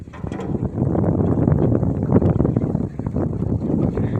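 Strong wind blows at sea as a rainstorm approaches during line fishing, a loud continuous rushing gust that buffets the microphone with a low roar for several seconds.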